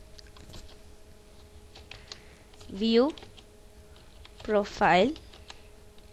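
Computer keyboard typing while coding a PHP project, faint scattered clicks running under a man's speech.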